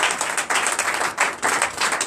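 A church congregation at a Sunday service applauds in a steady, continuous wash of clapping that rises and falls slightly, with no voices standing out.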